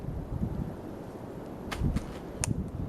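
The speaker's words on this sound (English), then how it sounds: "As you can tell, it's fairly windy outside" Low, steady wind rumble buffeting the microphone outdoors, with a few brief sharp gusts or rustles near the end and no speech.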